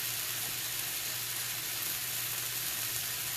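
Peppers and onions sizzle in a pan, a soft, steady, continuous frying hiss heard close and alone, with no talking.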